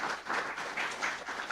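A lecture hall audience claps in a steady, sustained wash of applause that fills the whole stretch without a break.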